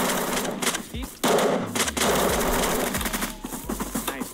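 Automatic gunfire in the video game Apocalypse Rising 2, rapid bursts of loud shots repeating over a few seconds with low in-game noise underneath.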